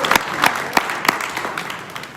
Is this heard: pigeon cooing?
no